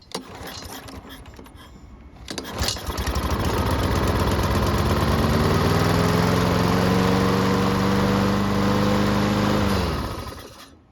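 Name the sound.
lawn mower engine starting and running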